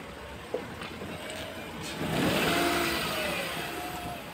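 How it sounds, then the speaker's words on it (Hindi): A car reverse parks on a narrow street in Rome, its mid-pitched engine rising in a gentle rev and then easing off, close by and steady over street background noise. "अब ये एक लेडी है सामने रिवर्स पार्क कर रही हैं"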